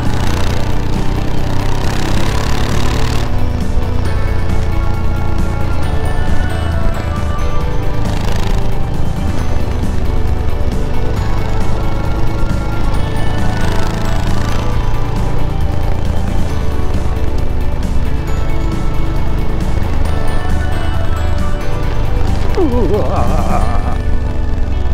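A vehicle crosses a corrugated washboard road surface, its engine droning continuously under a rough, uneven rumble, with a voice talking at times.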